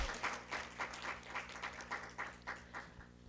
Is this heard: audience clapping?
yes